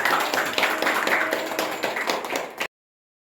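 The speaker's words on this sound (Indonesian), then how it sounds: "Nah, tepuk tangan untuk teman-teman." Students clap together in a classroom during an accounting lesson, a lively patter of many hands for under three seconds before cutting off abruptly, with a faint voice mixed in.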